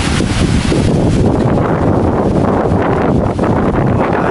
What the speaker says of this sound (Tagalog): Sobrang lakas pa po ng hangin.